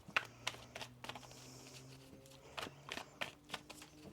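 Crisp bursts of tarot cards being riffled and shuffled, several quick flurries with pauses between, close by and fairly quiet.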